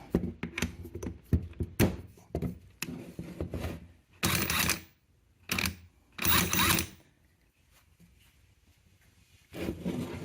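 DeWalt impact driver spinning a Klein Tools flip impact socket: bursts of rattling mechanical hammering, faint and close, in several short runs separated by pauses and light clicks and taps.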